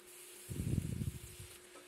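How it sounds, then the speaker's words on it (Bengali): Ginger garlic paste sizzles as it is fried for vegetable khichuri, a short crackling burst of frying and stirring that swells and fades within about a second, close and alone. "হালকা একটু ভেজে নিতে হবে।"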